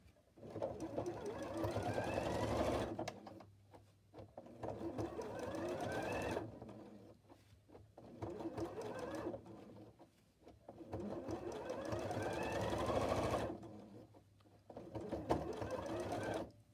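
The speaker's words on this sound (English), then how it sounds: "We trace our leaf pattern right on to the fabric, and we're going to sew on the leaf." A sewing machine stitches a fabric leaf onto a quilted pumpkin pot holder, running in three steady bursts of several seconds each, separated by short pauses with faint handling.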